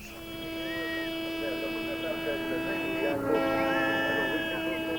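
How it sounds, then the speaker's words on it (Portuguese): Car horns honk continuously in a street protest outside a telecom headquarters, sustained overlapping tones forming a steady blare, fairly loud and unbroken throughout. "Desde as 8 da manhã, uma sinfonia de buzinas foi sendo ouvida junto da sede da Portugal Telecom."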